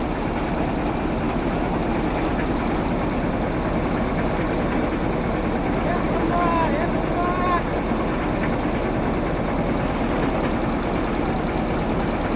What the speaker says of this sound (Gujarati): હલર છે નાનું ટ્રેક્ટર. કલાકે 25-30 મણ કાઢે છે.